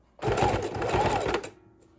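A sewing machine stitches a small zigzag around a junk journal cover, giving one short, close burst of rapid mechanical whirring that stops abruptly after about a second.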